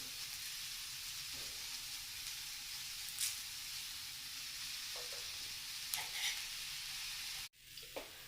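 Cumin seeds sizzling in hot oil while mutton dishes are cooked, a steady hissing crackle with a few brief pops and clinks, abruptly cut by a short silence near the end before the sizzle resumes; no talk.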